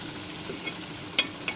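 Pieces of golden fried chicken are stirred in a hot pan, producing a brief soft sizzle with one sharp scrape of the spoon near the end.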